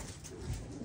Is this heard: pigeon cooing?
yes